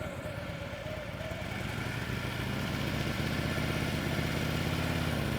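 A motorcycle engine running at low speed during slow-speed clutch and brake practice, a steady mid-pitched drone with a fairly constant level throughout and no voices.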